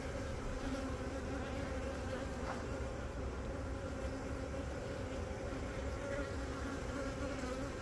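A large honeybee colony being removed from inside a wall, with brood-covering bees giving a steady, dense, low buzzing hum that holds unbroken throughout at moderate distance.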